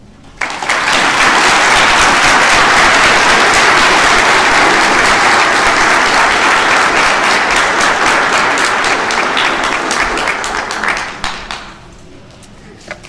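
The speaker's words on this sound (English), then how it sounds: "once again have you give him a warm round of applause for his insights" Audience at a graduation ceremony breaks into loud, sustained applause lasting about ten seconds, dense clapping from a large crowd that tapers off abruptly near the end.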